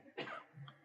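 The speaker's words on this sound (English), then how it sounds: "Producer's got a cough." A single short cough from a person in a studio, quiet and brief, heard alone with no talk.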